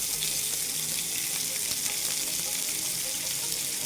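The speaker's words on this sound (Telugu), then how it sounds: "ఒక్కొక్క చేప ముక్క మీద అలా ఆయిల్ వేసుకుందాం" Oil is spooned over fish pieces frying crisp in a pan, a loud, continuous hissing sizzle that stays close and even throughout, with faint clatter underneath.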